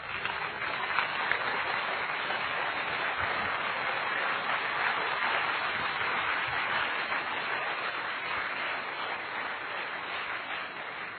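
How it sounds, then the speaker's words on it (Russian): A large conference audience applauds in a dense, continuous roar of clapping that holds at an even level, with no pause, for the whole stretch. "Дайте аплодисменты Иисусу."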